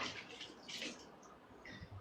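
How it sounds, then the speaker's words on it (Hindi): Water poured into a container and stirred in while mixing a spiced cooking preparation, a short splashy trickle with brief bursts of sloshing, fairly close and quiet, no talking. "इसमें पानी डालो और मिक्स करो।"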